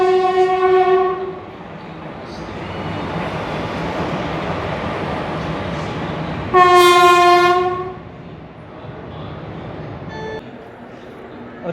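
The Amarkantak Superfast Express pulls into a platform at Raipur Junction. Loud, nearby two-tone horn blasts sound at the start and again midway, over a steady rumble of passing rail cars and a few brief fainter tones.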